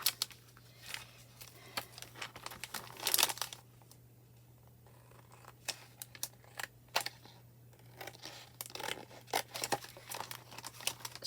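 Scissors cut a paper rub-on embellishment for a junk journal, giving faint, intermittent snips and crinkling rustles in bursts over a low steady hum, with brief quiet gaps.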